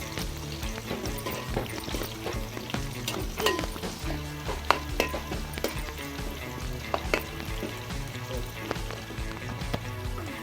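Thinly sliced onions fry with cumin in a pan for a mutton dalcha, making a continuous close crackling sizzle with occasional stirring clinks over a busy background, and no talking.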